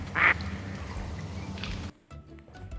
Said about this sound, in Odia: ଏଇଟି ହେଉଛି ବତକ।